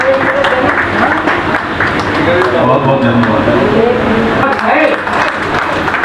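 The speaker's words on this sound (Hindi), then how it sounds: "तालियों से स्वागत।" Audience claps steadily at a book launch event, a dense continuous wash of applause with a voice speaking over it.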